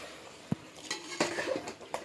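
Cooked mutton is moved from a pressure cooker into another vessel: a few sharp metal clinks and scrapes of a spoon against steel pots, close and fairly quiet, with no speech.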